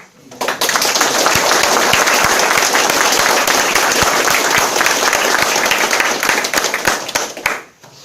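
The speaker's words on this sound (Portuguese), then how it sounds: "Pode uma salva de palmas aí" A conference audience gives a round of applause after a talk, dense and sustained clapping close by that swells quickly, holds steady for several seconds, then fades out.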